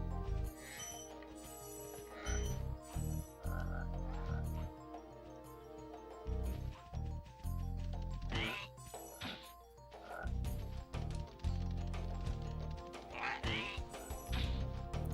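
Frogs croaking and quacking in the video game Spyro the Dragon, mixed into busy, loud game music with thumps and hits throughout.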